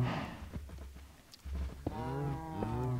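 Minecraft cows on a cow farm give a couple of drawn-out moos, close and fairly loud, with no talk over them.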